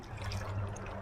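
Cold water flowing and splashing, a short burst of steady rushing liquid at moderate level, no voices.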